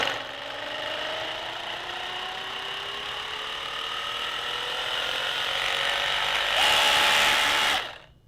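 A Bosch Professional SDS Plus hammer drill on soft start spins up with a rising mechanical whine, holds at reduced speed, jumps to a brighter full-speed pitch near the end, then cuts off sharply.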